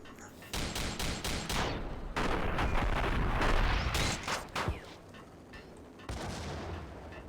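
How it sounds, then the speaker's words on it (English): Bursts of gunfire and a grenade blast from the video game Max Payne, with repeated loud cracks, a heavy dense volley in the middle and scattered shots afterward, close and harsh. "Did you just throw a grenade at me?"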